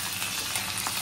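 Fish deep frying in hot oil gives a steady, dense sizzle with fine crackling throughout, loud and close with no voices.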